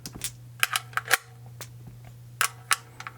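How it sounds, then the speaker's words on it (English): 7.62x39 rounds pressed into a Romanian AKM magazine, a series of sharp metallic clicks spaced irregularly with a quiet steady hum beneath, close and crisp. "Get them loaded up, just push them on in there, and make sure they're all the way to the back when you push them in"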